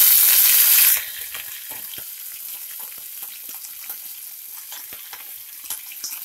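Chana dal, peanuts, curry leaves and chillies frying in hot oil for tempering, a loud hiss at first that quickly settles into a steady, close crackling sizzle with scattered pops.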